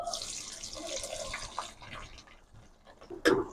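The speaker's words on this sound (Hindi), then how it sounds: "ऑयल हमारा गर्म हो चुका है। इसमें सबसे पहले प्याज डालेंगे।" Chopped onions hit hot oil in a cooking pan for a chicken dish, setting off a steady, bright sizzling hiss that gradually settles, with a sharper clatter near the end.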